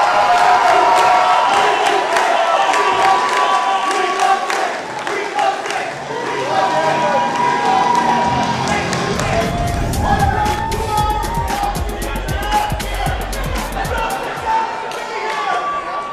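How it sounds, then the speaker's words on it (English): Wrestling crowd at an IHW Saturday Night Mayhem show roaring and cheering for Dazzling Dick Dury after a match, a dense sustained wall of voices and yells filling the whole stretch, with a heavy rumble of stomping or movement building midway. "just listen to the crowd response here for Dazzling Dick Dury"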